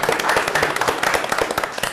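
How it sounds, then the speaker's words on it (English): A small audience at a city council meeting claps for military veterans, a brief scatter of hand claps in a modest room without much volume. "I'd like to give them a round of applause and tell them thank you"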